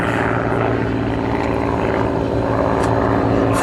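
An Ilyushin Il-2 Sturmovik, a World War II ground-attack plane rebuilt at Novosibirsk, flies over Berlin with a steady, loud propeller drone and a deep engine throb that holds constant throughout.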